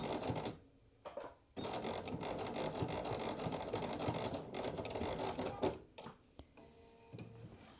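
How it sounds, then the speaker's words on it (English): A home sewing machine back stitching at the bottom of a hoodie seam, a steady mechanical whirr running in long bursts with brief pauses and stops, close by and fairly quiet. "we're going to back stitch there as well"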